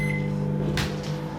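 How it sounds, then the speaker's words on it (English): A microwave oven runs with a steady, close electrical hum while melting butter in a microwave-safe plastic container, with a brief rustling burst partway through. "Now the butter has to be melted, so you can just melt that in a microwave"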